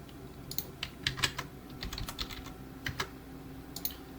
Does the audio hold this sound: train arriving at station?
no